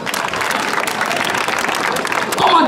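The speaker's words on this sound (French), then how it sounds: "Applaudissez pour ça." An audience bursts into applause at a political gathering in Côte d'Ivoire, a dense, steady wash of clapping that swells slightly toward the end.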